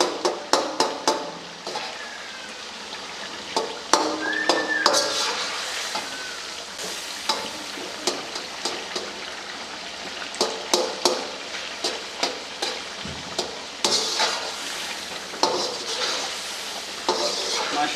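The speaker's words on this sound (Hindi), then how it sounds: "टमाटर को ऐसे मसल देना है।" Softened tomatoes are mashed and stirred with a utensil in a karahi over heat for Peshawari chicken karahi, with a steady oil sizzle and repeated metallic scrapes and knocks against the pan at a moderate distance.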